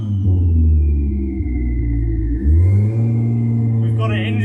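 A Toyota Supra Mk3 engine revs up, a loud close rumble with a rising, falling whine, steady and continuous, with a brief dip and then a second surge, while people talk nearby.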